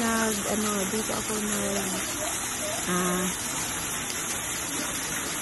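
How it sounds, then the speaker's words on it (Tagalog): Water splashes and gushes steadily at Santo Niño Church in Cebu, a continuous close rushing with faint tones and voices mixed in the background. "Napaka-relaxing ng kanyang tunog habang tumatagakpak yung tubig."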